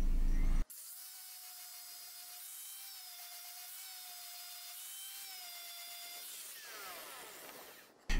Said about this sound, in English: Now, you're going to use the same flap wheel on your stainless.